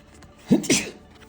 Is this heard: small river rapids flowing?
no